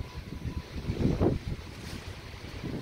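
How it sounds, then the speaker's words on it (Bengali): Strong wind gusts during a snowstorm in Canada, the first snowfall of the season, roar as a low, buffeting rumble close against the microphone, swelling briefly in the middle. "কি যে বাতাস আর কি যে ঠান্ডা, একদম উড়ায় ফেলতেছে আমার।"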